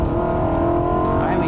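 A car engine with a tuned exhaust drones loud and close, a steady harsh exhaust tone with a slight rise in pitch toward the end.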